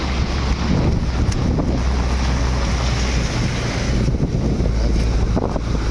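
Strong typhoon wind roars and buffets the microphone in a constant dense rush, with heavy rain blending into the noise and no voices.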